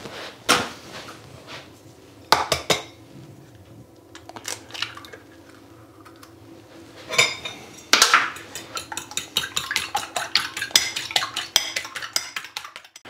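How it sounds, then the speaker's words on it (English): Two large eggs being lightly beaten in a bowl: scattered clinks of the eggs and bowl at first, then a quick run of light rhythmic tapping from a fork or whisk against the bowl, close, with no talk. "Next we're going to crack our 2 large eggs and just give them light beating."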